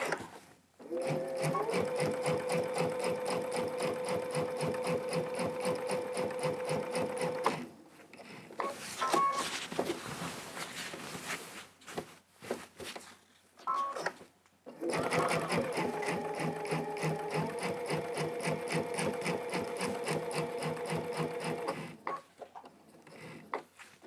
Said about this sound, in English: Now we're going to do our little stitch in the ditch and come back.